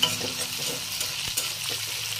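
Dried fish (shutki) fries in a pan, making a continuous hissing sizzle close by, broken by a few stirring scrapes, with nobody speaking.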